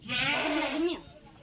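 A goat gives one loud, wavering bleat lasting about a second, close by, then trails off into quiet.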